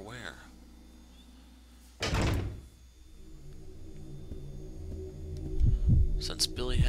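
A water door opens in the video game Resident Evil 0: a sudden loud rushing burst followed by a low, throbbing mechanical rumble that builds under the game's ambient hum.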